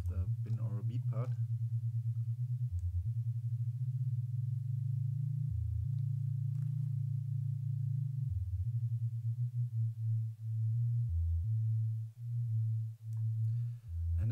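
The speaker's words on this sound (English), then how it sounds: "some subtle differences here in the binaural part also have a very big effect on what you hear" Steady low sine-like binaural beat tones built in Unreal Engine Metasounds, a continuous hum that shifts pitch slightly in stepped sections, with brief soft clicks at the start and no talking.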